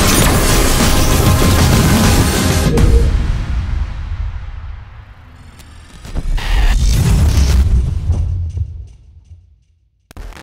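A massive weapon blast fired at maximum output in the Destiny Child game, a loud booming explosion that decays into a long rumbling tail, followed by a second heavy crash and a brief final hit.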